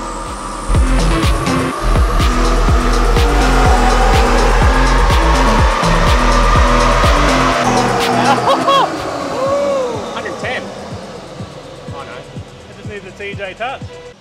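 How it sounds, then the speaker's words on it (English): A car accelerates flat out in fourth gear while testing tire size, its engine droning loudly with a pulsing rhythm for several seconds before backing off, with voices talking briefly over it. "Now accelerate up to 60 without leaving four."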